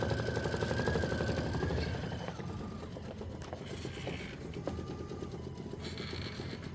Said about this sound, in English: That's going to stitch the frame satin outline.